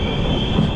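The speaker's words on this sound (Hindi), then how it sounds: "तो मधुपुर जंक्शन पे हमारी गाड़ी अराइव कर रही है।" An Amrit Bharat Express train pulling into Madhupur Junction, a steady loud rail rumble with a sustained high wheel squeal running throughout.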